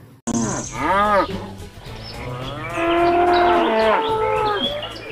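A cow moos several times, loud and close, with long drawn-out lowing calls overlapping one another.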